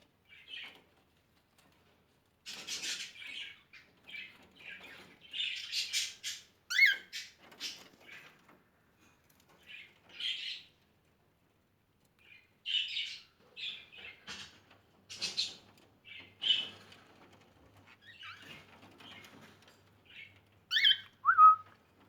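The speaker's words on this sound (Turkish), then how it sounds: "Sultanın bir tanesi yavaş yavaş kuretüşlerine başladı arkadaşlar" Cockatiels in nesting boxes, with a young bird beginning its courtship song: scattered bursts of high chirps, squeaks and whistles come in short phrases separated by brief pauses, close by, with no talking.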